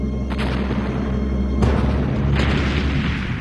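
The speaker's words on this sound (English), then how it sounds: "Barrel bombs." A barrel bomb goes off in a Donkey Kong Country cartoon, a loud, sustained booming blast with rumbling noise that swells again midway through and then lingers.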